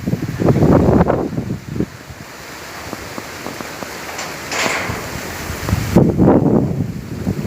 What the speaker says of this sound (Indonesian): nggak jadi mancing karena anginnya sangat kencang sekali